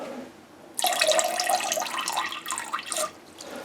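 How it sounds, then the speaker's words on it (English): Tap water runs into a sink to rinse out a syringe used for measuring plant nutrients, a close, steady splashing stream starting abruptly and continuing with gurgling variations. "I just take the syringe and sort of rinse it out each time"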